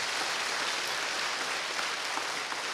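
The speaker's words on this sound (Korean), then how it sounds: "저 백부장을 위해서 박수 한번 쳐줘봐" Church audience at a Korean sermon lecture breaking into applause, a continuous wash of many hands clapping at steady moderate level without speech.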